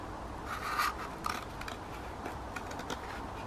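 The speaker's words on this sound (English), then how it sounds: "if you're going to use your toilet roll, cut one in half" Scissors cut a cardboard toilet roll in half for a festive craft, giving a close, quiet run of snips and scraping rasps with a couple of sharper clicks.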